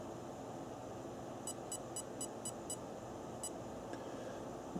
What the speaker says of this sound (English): you'll see it's 5 beeps followed by 1 beep.